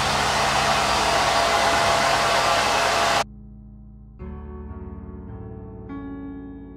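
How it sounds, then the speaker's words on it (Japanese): A hair dryer blows steadily and loudly for about three seconds while drying curly hair, then cuts off, leaving a lower-pitched background hum that returns with a tonal whine. "ではこの状態でちょっと乾かしてみたいと思います。"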